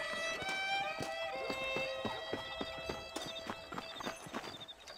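Horse hooves gallop in a steady, close clip-clop rhythm in the Western game Red Dead Redemption, with a whinny, tonal music and background ambience layered over the repeated beats.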